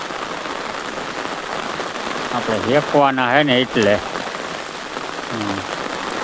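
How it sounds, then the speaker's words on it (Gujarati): Heavy rain falls steadily on field crops, including chilli plants, a dense, even hiss of drops that runs throughout, while a voice speaks briefly over it in the middle. "વરસાદ ચાલુ જ છે હો અત્યારે."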